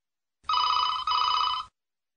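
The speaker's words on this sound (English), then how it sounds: "Truecall now rings Mary's phone" Landline phone ringing after being connected by a Truecall call screening device, two close electronic ring bursts back to back, clear and alone against silence.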